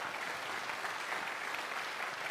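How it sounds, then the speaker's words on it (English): Steady, dense applause from a crowd, continuous clapping throughout with no breaks. "Give a big round of applause"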